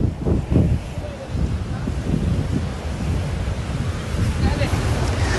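Sea waves washing against an eroding shore, a continuous rushing surf buffeted by heavy wind noise on the microphone, close and fairly loud.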